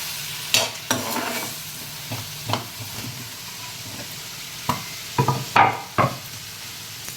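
Raw plantain stir-frying in a pan, a steady low sizzle broken by scattered clanks and scrapes of a spatula stirring against the metal, close and alone with no voices.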